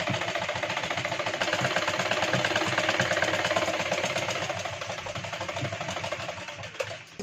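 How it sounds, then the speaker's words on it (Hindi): A sewing machine stitches around a blouse neckline in a steady, fast mechanical chatter, running continuously near and clear for several seconds before easing slightly at the end. "इससे मार्जिन छोड़ते हुए इस तरीके से सिलाई लगाएंगे हम"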